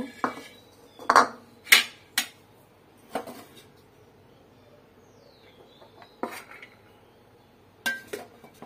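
Rice being served at a village home meal in Bangladesh, with crockery and utensils clinking in a series of sharp, bright knocks and chinks spread irregularly across the clip, close by and without talk.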